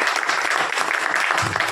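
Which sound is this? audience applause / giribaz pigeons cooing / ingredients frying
audience applause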